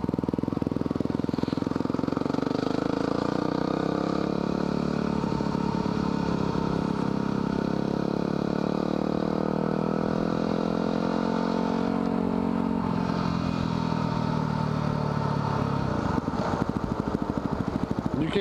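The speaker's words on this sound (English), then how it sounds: "You can't even hear that bike over mine." A Buell motorcycle engine runs close by at a loud, steady idle, rough and throbbing, with slight shifts in pitch over a long stretch.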